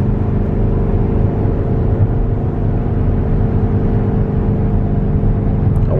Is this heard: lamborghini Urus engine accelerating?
yes